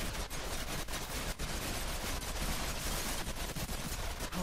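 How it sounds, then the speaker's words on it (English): Rapid bursts of machine-gun fire in the game The Darkness 2 rattle continuously, with sharp individual cracks standing out in a loud, dense barrage. "Oh, look at all that gunfire."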